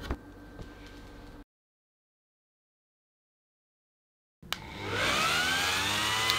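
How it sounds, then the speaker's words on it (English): Random orbit sander with 240 grit sandpaper on a CNC-carved sign, heard briefly at low level, then a gap of silence before it spins up again, rising to a loud steady whine. "I'm using 240 grit sandpaper in my random orbit sander."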